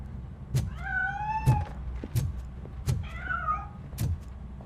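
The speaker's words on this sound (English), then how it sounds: "That cat must be hiding inside." A cat meows twice in the video game RoboCop: Rogue City, clear drawn-out cries over a low ambient hum punctuated by regular soft thumps.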